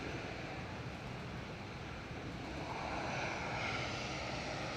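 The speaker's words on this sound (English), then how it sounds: "Here we go, Emirates Flight 22 back to Dubai A6EUZ" Emirates Airbus A380 at Manchester Airport, a steady broad engine roar at moderate distance, holding level throughout and swelling slightly toward the end, with no voices.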